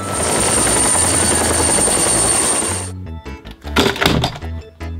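A red toy helicopter gives a loud continuous whirring rotor effect that cuts off sharply about halfway, followed by a few knocks and clunks.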